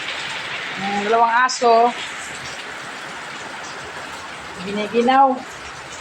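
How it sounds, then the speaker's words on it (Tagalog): Heavy rain hisses steadily as a constant wash of noise, while a person speaks briefly twice over it. "Lakas yung ulan."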